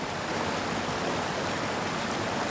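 A small forest waterfall and flowing stream give a steady, dense rush of water, even and unbroken throughout, moderately quiet with no voices.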